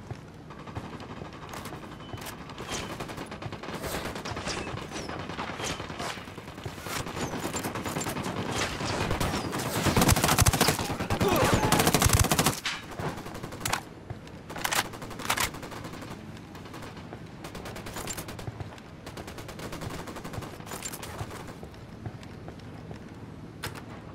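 Dense squad gunfire in the Ghost Recon Wildlands video game, rapid overlapping shots and automatic bursts throughout, peaking in a loud sustained volley near the middle before continuing at a steady clatter.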